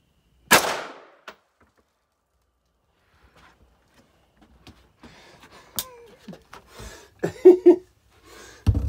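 An AR-15 rifle fired at a Dinty Moore stew can outdoors from about twelve yards gives one sharp, loud crack near the start. It is followed by quiet and a few faint scattered clicks and rustles.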